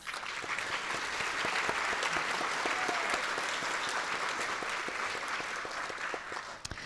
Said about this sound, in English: Let's give our new NHS members a round of applause.